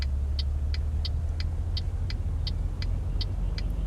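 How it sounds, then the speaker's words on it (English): A truck engine in Euro Truck Simulator 2 drones with a deep, steady low rumble, loud and close, while a regular ticking click repeats about three times per second over it. "I could let it rev up and then change gears really fast like that"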